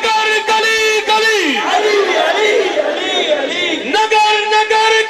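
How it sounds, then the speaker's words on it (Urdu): Crowd at a religious gathering answering with a loud chanted Nara-e-Haidari slogan, a dense mass of voices rising in unison after a leader's call, close and strong with sustained tonal shouting. "علی سے محبت کرنے والے بالحانہ انداز میں نعرہ حیدری"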